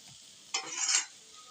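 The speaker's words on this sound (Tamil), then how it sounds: "இப்போ வெங்காயம் தக்காளி வந்து நல்லா வதங்கிடுச்சு நினைக்கிறேன்." Onions and tomatoes sizzle as a utensil stirs them in a frying pan while a home cook makes noodles. It is one short, soft burst of scraping and frying in a quiet kitchen.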